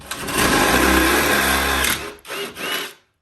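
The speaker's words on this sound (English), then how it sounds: "And now we're gonna go through with our 1/2 inch bit." A power drill with a 1/2 inch bit bores through a metal stud while mounting a TV, a loud, steady whine for about two seconds, then two shorter bursts as the bit finishes the hole.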